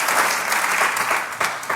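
Congregation applauding at an apostolic church service in Los Angeles, a steady dense clapping wash that swells slightly near the end, with no voices over it.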